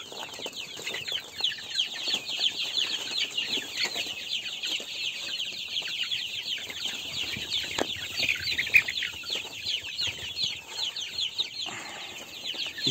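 A dense, busy flock of laying hens clucks and chatters continuously, with occasional wing flutters and shuffling, steady and moderately close.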